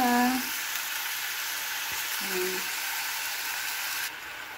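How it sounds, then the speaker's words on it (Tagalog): Chicken pieces frying in a pan for chicken mechado, giving a steady, hissing sizzle throughout with a brief voice speaking near the start and again midway. "iprito muna natin ito hanggat magluto siya"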